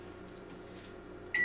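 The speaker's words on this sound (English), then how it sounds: "Echo, microwave on." Amazon Basics microwave oven, model S9N29R, gives a short, clear electronic beep right at the end of an otherwise quiet moment as it starts on a voice command.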